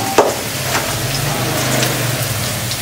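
Potato pieces frying in a pan give a continuous, fairly loud hiss and light spitting, with a short clink near the start and no talking.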